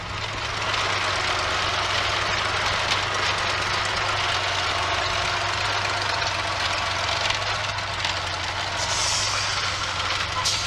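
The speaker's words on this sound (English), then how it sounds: "I'll just turn it into wind, run the engine up, check everything works before we go" A Supermarine Spitfire ML407 piston engine runs up before takeoff, a loud, steady, continuous drone with a low throbbing hum held for about ten seconds and no talk.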